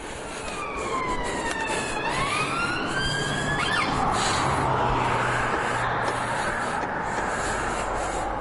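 A police car siren wails close by in street traffic, its rising and falling sweeps sliding between tones before fading into the steady road rumble.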